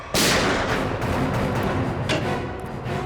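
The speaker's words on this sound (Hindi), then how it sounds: "अंदर से 2 गोलियां चली हैं और दरवाजा भी अंदर से लॉक है" Two loud gunshots ring out from inside a locked office, a sharp blast at the start followed by a second crack about two seconds later, each leaving a long reverberant roar.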